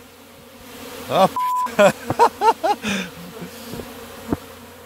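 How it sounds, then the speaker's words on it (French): Honey bees swarming thickly around a hive entrance, a loud dense buzz with rising and falling insect whines passing close by, along with a brief beep and a man's exclamations. "un beau carré d'abeilles un peu partout là"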